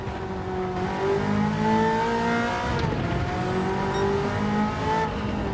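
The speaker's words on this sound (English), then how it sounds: "Surprisingly, the Shelby GT 350 does sound incredible like this Ferrari F40." Ferrari F40 engine revving through gears on the Nürburgring in a racing game, the pitch climbing and dropping in loud sweeps, close and continuous with no talk.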